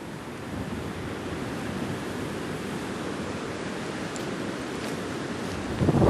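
Ocean surf breaks where the Alexander River meets the Mediterranean, a steady broad wash of waves with some wind, rising slightly louder at the end, with no voices.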